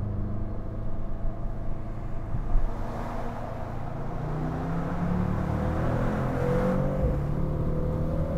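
A Brabus Rocket 900 pulls hard in third gear, its engine rumbling loud and close as the pitch climbs steadily through the acceleration, with no talk over it.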